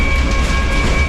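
A Romanian Malaxa railcar, nearly a century old, runs on a regional line from Pitești to Curtea de Argeș, heard as a loud, continuous rolling rumble with a steady whine over it.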